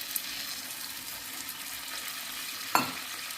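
Soaked paneer goes into frying masala in a pan, a steady close sizzle with a sharp splash-like crackle near the end, no talking.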